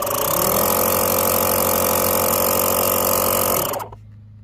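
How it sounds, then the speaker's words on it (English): A DeWALT DCC020I cordless air inflator runs with a loud, steady motor drone and fast pumping buzz, close up, before it cuts off abruptly near the end, leaving quiet room tone. "This air inflator is fairly quiet, running at only 92 decibel."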